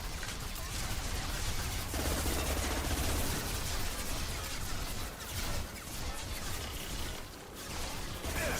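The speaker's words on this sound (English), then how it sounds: "Grenade time." Dense gunfire and rattling bursts in the video game Mass Effect, with a grenade-like blast mixed into a busy, continuous wash of combat noise at moderate loudness.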